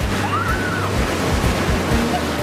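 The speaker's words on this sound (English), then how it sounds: "and just enjoying the waves." Ocean surf at a sandy beach, a loud, continuous wash of breaking waves with wind rumbling over the microphone and no clear voices.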